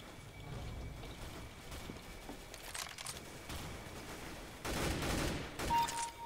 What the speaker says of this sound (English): I can snipe with an AK-47.